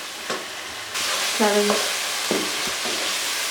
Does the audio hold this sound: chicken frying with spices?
yes